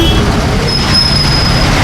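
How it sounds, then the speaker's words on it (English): Loud, dense street traffic in Udaipur's crowded Old City, a steady roadway rumble dominated by bus and truck engines with a faint high whine, continuous throughout and close by. "Here was that traffic that I was looking for earlier this afternoon."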